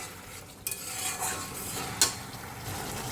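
Spices being sautéed and stirred in a pan for a vegetarian dish of fried paneer, cauliflower and potato, with a steady close sizzle, a few scraping stirs and one sharp clink of a utensil against the pan.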